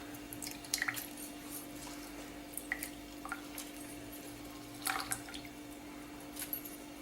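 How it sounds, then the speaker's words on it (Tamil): Lemon squeezed by hand for aloe vera juice, sending a few faint, scattered drips and small wet squishes into a container, with irregular pauses between them and a steady low hum behind. "லெமன் புழிஞ்சுக்குவோம்."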